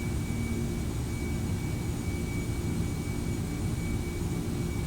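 A simulated Boeing 747-400 in a flight simulator game spools its jet engines to takeoff thrust, a continuous dense roar with a thin high whine, steady and loud with no voices.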